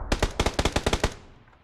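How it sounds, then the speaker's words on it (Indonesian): Rapid burst of automatic gunfire from a video game, about ten sharp close shots in quick rhythm, ending in a fading tail. "Oh, ini nembak."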